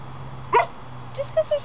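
A single short bark followed by a few soft yips and whines from a dog, fairly close, over a low background hum.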